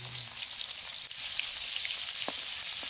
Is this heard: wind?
no